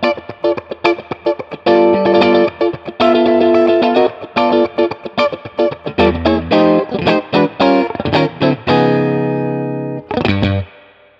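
An electric guitar plays through a Two Rock Studio Signature amp set to a nearly clean tone with a touch of grit, with loud, close chords and single notes ringing with slight echo.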